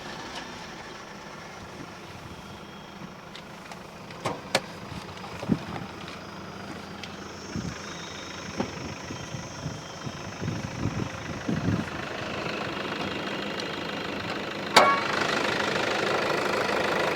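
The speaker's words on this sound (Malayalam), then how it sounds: "ഞാൻ ഏതായാലും എഞ്ചിൻ്റെ വർക്കിംഗ് കൂടി ഒന്ന് കേൾപ്പിച്ചു തരാം" A used Toyota Fortuner's engine running, a steady low hum with occasional ticks and clicks, rising a little in level toward the end, with no talk.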